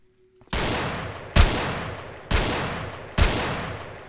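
Four loud, evenly spaced gunshots from the video game Dead Epidemic, each a sharp blast with a long echoing decay, roughly one second apart.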